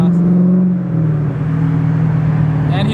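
A Dodge Hellcat's engine runs steadily with a deep low growl and a slight lift in pitch near the end, close and loud, with no one talking over it.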